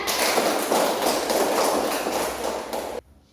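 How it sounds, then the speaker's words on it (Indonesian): A classroom of children clapping hands in sustained, even applause, close and full, that stops abruptly near the end, leaving quiet room tone. "sekali lagi tepuk tangan."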